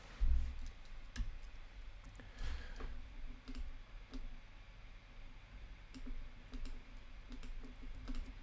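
Sparse, faint key clicks from a computer keyboard tapped a few times in a quiet room, isolated sharp ticks spread across the stretch with low background hum.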